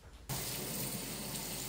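Tap water pours steadily over a vegetable being washed in a sink for kimchi, starting abruptly and running as a continuous, close, fairly loud hiss with no voices.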